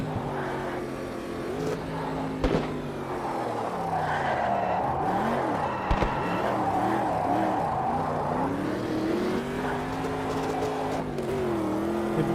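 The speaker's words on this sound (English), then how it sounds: "Lighting them tyres up." GT racing cars in the Automobilista 2 sim race with rear tyres spinning and skidding, engines revving and wailing up and down through gears while tyres squeal, loud and continuous throughout.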